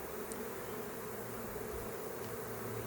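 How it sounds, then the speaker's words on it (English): A swarm of honey bees pours into a nuc hive box, their steady, dense buzzing droning without pause and filling the air close by. "suddenly all these bees have shifted into overdrive and they're moving really"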